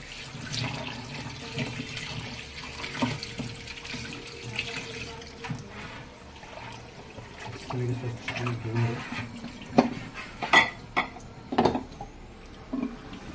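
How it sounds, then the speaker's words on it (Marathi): Mutton washed under a running tap in a kitchen sink, with flowing water, splashing and occasional knocks of a vessel, while a person talks over it. "मटण पण धुवून घेऊ."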